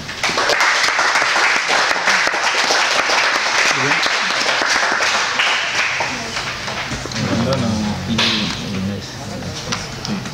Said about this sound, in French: on peut les applaudir avant qu'on entende les noms